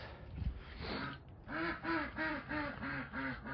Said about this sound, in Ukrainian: Ох і качка.